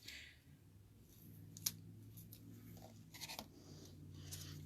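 Scissors cutting a piece of material for a small craft flag, a few faint snips and scrapes spaced irregularly over a quiet room hum.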